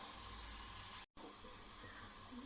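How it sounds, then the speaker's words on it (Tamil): Steam hisses steadily from a pan of cooking tomatoes for tomato chutney as the lid comes off, a faint continuous rush broken by one very short silent gap. "மூடி திறக்கேன்"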